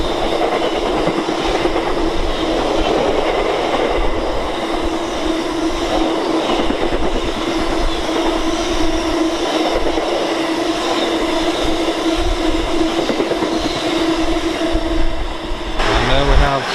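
Class 60 locomotive 60039, hauling a train from Kingsbury to Humber Oil Refinery, passes Tamworth on the West Coast Main Line. Its loud, sustained rumble carries a steady engine tone and wheel clatter that builds toward the end.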